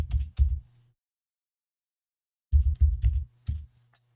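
Fingers type on a computer keyboard in two short runs of clicking keystrokes, a quick pair at first and then a brisk burst of several keys after a pause, close and clear with no talk.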